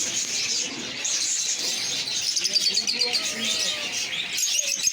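Many small birds, including lovebirds and doves, chirp and tweet constantly in a crowded, echoing bird shop in Rangpur, with a few coos and faint voices mixed into the busy chatter.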